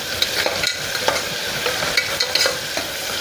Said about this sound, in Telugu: ఇంకా కొంచెం ఆనియన్స్ ఫ్రై అవ్వడానికి కొంచెం అయితే సాల్ట్ వేసేద్దాము